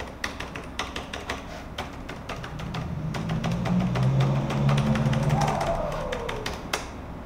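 Someone taps the keys of a faulty Asus X541U laptop keyboard, some of them unresponsive, making quick, close, irregular clicks throughout, with a low hum rising and fading in the middle.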